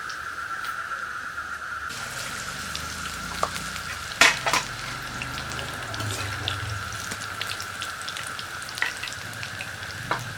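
Coriander-leaf pakoras deep-frying in hot oil, a steady crackling sizzle throughout with a few sharp clinks and stirring knocks midway; no one speaks.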